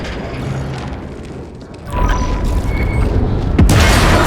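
A loud in-game explosion from the video game The Ascent booms out suddenly partway through, sustained rumbling filling the rest of the moment with a second burst near the end.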